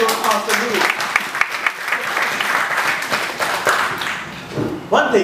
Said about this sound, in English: A big round of applause for your master Noor.